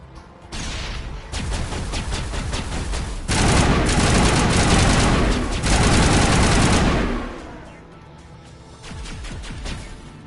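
Dense rapid gunfire from the Mass Effect Legendary Edition video game, bursts overlapping into a loud sustained fusillade that swells, holds, then thins to a lighter crackle near the end, with no talk.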